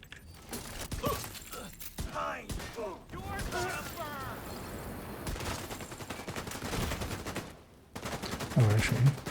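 Video game gunfire from a Headhunter pistol, a handful of sharp shots and mechanical clicks amid busy game effects and background noise.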